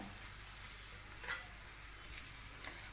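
Aloo paratha frying on a hot tawa: a faint, steady sizzle with soft crackles, close and without talk.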